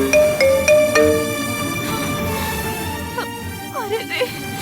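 A phone ringtone chimes several times in quick bright tones, then fades as someone speaks over a busy background.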